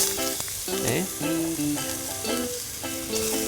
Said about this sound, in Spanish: se va pochando un poquito junto con el ajo toda la vez